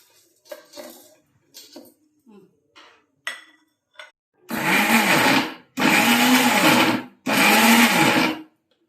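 A kitchen mixer grinder runs in three loud, close bursts of about a second each, grinding onion and raw ridge gourd for chutney, after a stretch of clinks and handling noises.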